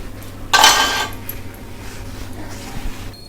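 A sponge is rubbed over a gas stove top during kitchen cleaning, making one short, close burst of scrubbing with faint clinks. Low, quiet room noise follows.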